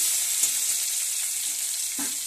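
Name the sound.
garlic paste frying in oil with tomatoes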